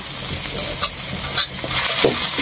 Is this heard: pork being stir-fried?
yes